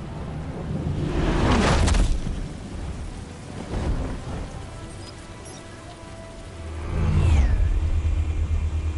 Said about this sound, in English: Batmobile.